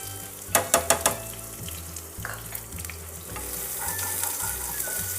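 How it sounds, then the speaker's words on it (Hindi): Onions fry in a hot pan for vada pav, a steady sizzle broken by a quick run of four sharp scrapes of a spoon stirring, then more intermittent stirring under the continuous frying. "प्याज को हम भूनेंगे"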